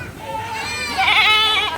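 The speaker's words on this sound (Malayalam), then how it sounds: "വലിയ ആടൊക്കെ ഉണ്ട് ഇവിടെ." Goats bleat on an open hillside farm in Yercaud, Tamil Nadu, the wavering cries rising and overlapping, growing louder toward the end, close by with faint background noise.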